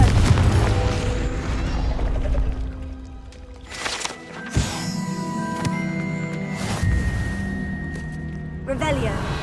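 The Confringo explosive spell is cast in Hogwarts Legacy, a deep booming burst midway through a busy mix of game effects and voices.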